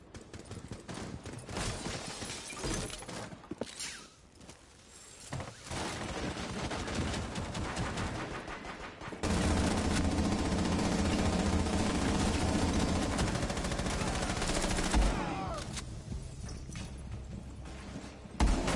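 Rapid gunfire from a video game firearm, dense bursts of loud shots in close succession that run almost continuously with brief pauses, mixed with game effects.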